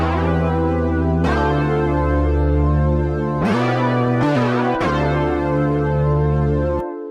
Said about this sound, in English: I love this synth because it's super glidey